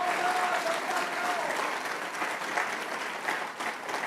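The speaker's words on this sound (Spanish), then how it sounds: "Denle un fuerte aplauso al Padre, al Hijo y al Espíritu Santo." Church congregation applauding during a Spanish-language worship service, a dense, steady wash of many hands clapping at once, loud and sustained throughout with no break.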